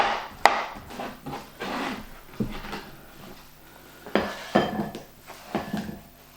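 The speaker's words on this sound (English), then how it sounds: "So you want to slice your bananas." A knife slicing bananas on a board for banoffee pie, a series of soft irregular taps and knocks of the blade hitting wood, close and fairly quiet with short gaps between cuts.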